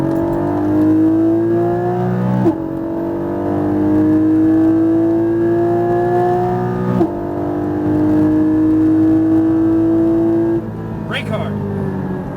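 A Porsche Cayman GT4 on a race track accelerates hard, its engine note climbing steadily through two long upshifted pulls, then a third, loud and close from inside the car with a driving coach talking over it.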